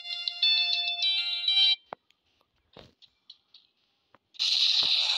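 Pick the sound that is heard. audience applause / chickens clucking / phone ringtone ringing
phone ringtone ringing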